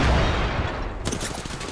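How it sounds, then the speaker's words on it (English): Shooter-game gunfire rattles close and loud as a dense, continuous burst of shots with a sharper crackle in the second half, no voices. "Shots fired and they're hitting me"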